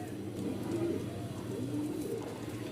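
Rajshahi Giribaj pigeons coo softly and continuously in a close loft, low murmuring calls overlapping with no talk.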